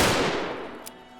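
One revolver shot, fired in single-action mode in modded Fallout 4, gives a sharp loud crack that decays over about a second, alone with no talk.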